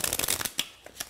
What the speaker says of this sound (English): in the action of shuffling the cards